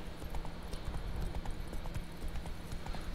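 Roach the horse galloping in The Witcher 3, a fast, steady clip-clop of hooves with a low rumbling bed beneath, continuous and fairly close.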